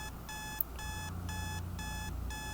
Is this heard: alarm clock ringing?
yes